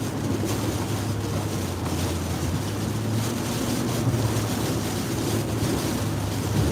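Hurricane Nicole's wind roars steadily along the Florida coast near Delray Beach and Boca Raton, a dense, continuous rush with heavy buffeting on the microphone and surf underneath, with no talking.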